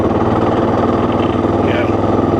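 A 2024 Suzuki DR 650 motorcycle engine runs loud and close, a steady throbbing drone that holds near one pitch for the short stretch with only a slight lift in revs.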